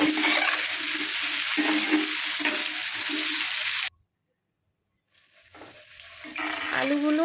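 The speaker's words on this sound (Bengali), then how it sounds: "হলুদ আর লবণ দিয়ে আলুগুলো একটু লাল লাল উৎসব করবে সে পর্যায়ে ভেজে তুলে নেব" Potatoes frying in oil with turmeric and salt in a pan, a loud, dense sizzle with rhythmic stirring. It drops to near silence briefly, then the frying returns and builds again.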